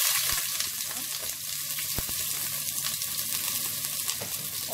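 Hot oil sizzling steadily in a pan while cooking adobong pusit with squid: a dense, continuous, close crackle with faint pops throughout, no talking.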